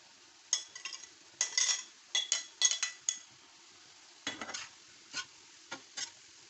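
Kaleji cooking with masala on a tawa, with intermittent scraping and stirring strokes and metallic clinks of a utensil against the pan over a faint sizzle, close and in uneven bursts.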